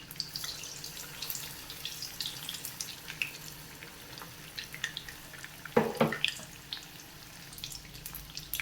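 Pieces of egg snack fry in hot oil with a soft, steady sizzle and scattered crackles, plus a few louder clattering knocks partway through, and no talk over it.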